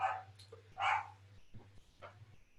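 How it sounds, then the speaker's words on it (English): A dog barks a few times in the background, sharp and somewhat distant, over a low steady hum. "Sorry for the barking in the background."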